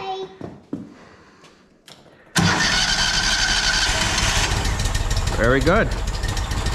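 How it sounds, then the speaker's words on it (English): A Walker MTGHS riding mower engine, converted from EFI to a carburetor, cranks and fires after a quiet lead-in, then settles into a loud, steady run close by; brief speech comes before the start. "We're gonna go ahead and fire this up and see if she idles."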